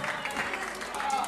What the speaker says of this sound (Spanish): Despierta la admiración y los aplausos del público en el microestadio sudamericano